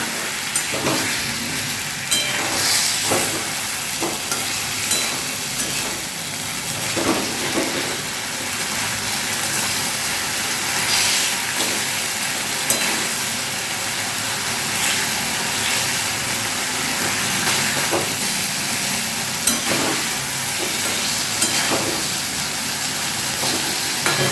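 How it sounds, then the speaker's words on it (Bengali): Idli pieces tossed into a pan with a little chicken stock, sautéed and mixed, giving a long steady sizzle with repeated scraping strokes and clinks of a spatula at an uneven rhythm. "এবার এইগুলো ঢেলে দিচ্ছি জাস্ট একটু সতে করে নেবো মাখিয়ে নেবো"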